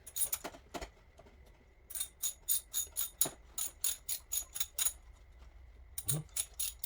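A hand ratchet clicks in quick rhythmic bursts while loosening a spark plug in the cramped engine bay of a Mercedes CLK with the M112 V6, close and clear with short pauses between runs of ticks.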